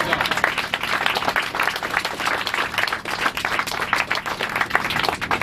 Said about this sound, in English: they deserve a round of applause for what they've done